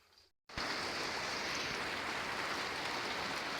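Steady rain falling in a Bangladeshi village, a dense even hiss that starts abruptly after a brief quieter moment and continues unbroken, close and fairly loud, with no voices.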